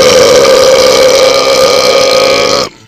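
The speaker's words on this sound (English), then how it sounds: "A 3-second belch." A single loud, sustained belch rolls on for close to three seconds with a steady, buzzing tone, then stops abruptly into near silence.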